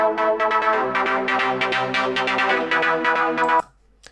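A Serum-made classic trance lead plays bright, sustained stacked chords in a rhythmic pulsing pattern, loud and upfront, then cuts off abruptly near the end, leaving near silence.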